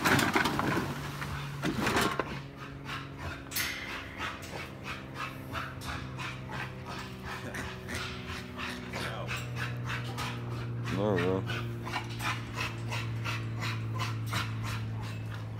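Rapid rhythmic panting from a dog in a kennel, close and steady for the whole stretch, with a few soft whimpers and some low speech-like sounds in the background.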